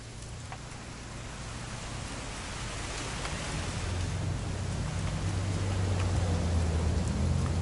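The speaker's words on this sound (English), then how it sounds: "It's gonna rain the whole weekend, isn't it?" Steady rain falls in the video game What Remains of Edith Finch, a continuous broadband hiss that slowly swells in loudness, with a low rumble underneath and no talking.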